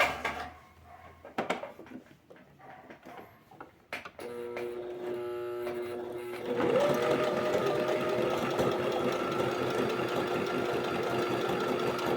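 A Brother domestic sewing machine stitches a one-step buttonhole, starting with quiet handling and clicks, then settling into a steady, fairly loud whirring run of rapid stitches that continues to the end.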